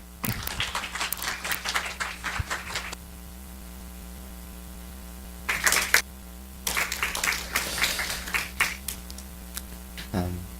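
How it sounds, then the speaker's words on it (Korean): A church congregation claps warmly to welcome a guest speaker and his wife, in two bursts of moderate, slightly distant applause with a quiet gap of hum between them. "한번교회 따뜻한 박수로 맞아주시기 바랍니다"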